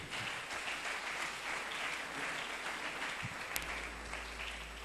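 A church congregation applauds and cheers for Jesus during a sermon, a dense, steady wash of clapping from a large crowd that continues evenly throughout.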